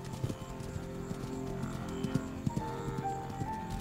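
Hooves trampling on ground during a lion hunt on the savanna, heard as scattered soft thuds and clip-clop beats over a steady background rumble, with no speech.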